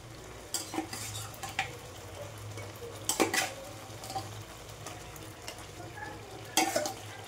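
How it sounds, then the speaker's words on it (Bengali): Fish pieces set one by one into hot spiced oil in a pan, with a low continuous sizzle broken by several sharp clinks and scrapes of a utensil against the pan; nobody speaks. "এবার আমি মাছগুলো এর উপরে বসিয়ে দেবো এক এক করে।"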